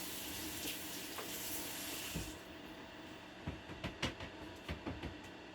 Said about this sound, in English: Rinse off my cutting board.